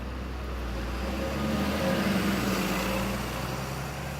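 A bus pulls away into town, its low engine rumble swelling for a couple of seconds and then easing off, close by and steady, with no voices over it.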